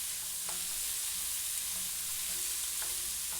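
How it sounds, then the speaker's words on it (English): Onions sweat in a pan with garlic, ginger and cumin seeds, giving a steady close sizzle with occasional light stirring scrapes. "right now we're just going to sweat these onions real quick"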